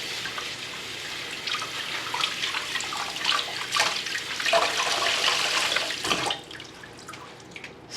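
Water runs steadily while clothes, including a T-shirt, are washed and rinsed by hand. Splashing and gushing dominate for about six seconds and then drop to a quieter trickle.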